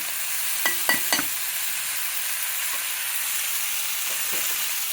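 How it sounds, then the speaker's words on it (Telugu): Salt and coriander being stirred into cauliflower fry in a pan, giving a few soft scraping clicks near the start over a steady low sizzle that carries on faintly throughout. "ఇప్పుడు మొత్తం కలిపెట్టుకోవాలి."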